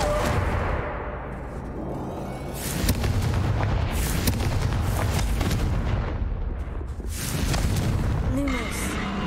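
Confringo fire spell blasts in the video game Hogwarts Legacy, with repeated heavy booming explosions and rumbling bursts through most of the stretch, loud and close, alongside game effects and some speech.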